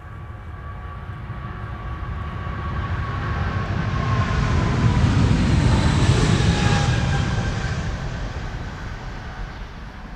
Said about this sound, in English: 777-200 going to Newark